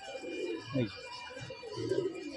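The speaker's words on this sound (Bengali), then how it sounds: "এটা আমার দিলের পায়রা" Pet pigeons coo at close range in soft, repeated throaty bursts, with a faint voice murmuring in the background.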